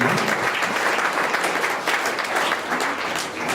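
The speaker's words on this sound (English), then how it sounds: "So a round of applause for everyone involved in the ICN." A crowd at a gala night for a natural bodybuilding competition claps in dense, sustained applause, loud and even throughout with no break.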